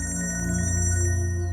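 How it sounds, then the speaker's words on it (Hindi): A mobile phone rings with a steady repeating electronic ringtone, moderately loud and continuous, with no talk over it. "आपका फोन बज रहा है।"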